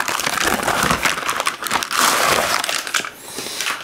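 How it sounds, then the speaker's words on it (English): De Buyer Mineral B Pro pan being pulled out of a paper bag, with loud, close crinkling and crumpling of paper that continues in bursts, easing briefly near the end, without talking. "And it came wrapped in this nice paper bag. So, let's pull this out."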